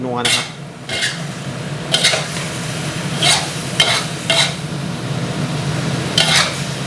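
Chicken liver sizzles and crackles steadily in a hot oiled pan, with a utensil scraping and clattering against the metal every second or so as it's stir-fried.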